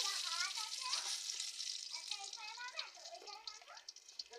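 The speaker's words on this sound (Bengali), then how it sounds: "গরম হয়ে গিয়েছে তেল দিয়ে দিচ্ছি আমি তেজপাতা দিয়ে দিচ্ছি তেলের উপর" Bay leaves dropped into hot oil in a home kitchen give a steady, close sizzle and crackle, with voices speaking over the frying throughout.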